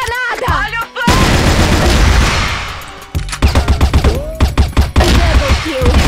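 Grenade blast and bursts of rapid gunfire from a shooter video game, loud and dense, with a short lull before a heavy explosion roars, then repeated sharp shots crackling over game voice callouts.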